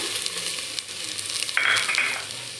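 Chana dal tossed into a pan with fried onion and curry leaves for roasting, giving a steady close sizzle with stirring scrapes and a brighter hiss partway through.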